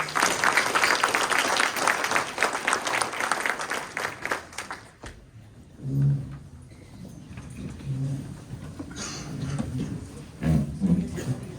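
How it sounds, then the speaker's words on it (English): A breakfast crowd gives a round of applause that is dense for about five seconds, then breaks off into scattered murmurs, low voices and a few stray claps. "And I think that deserves a round of applause"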